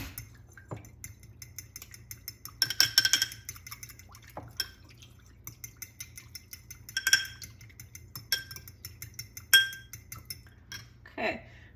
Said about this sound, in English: I'm going to stir this a little.